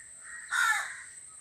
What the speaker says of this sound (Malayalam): ഒരു വിധത്തിൽ ഞാൻ കാക്കി ഓടിച്ച് കിട്ടിയിട്ടുണ്ടായിരുന്നു.